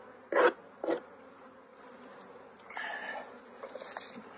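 Steady low droning buzz of many honeybees near a hive during spring cleanup, with a few louder close passes as insects fly by.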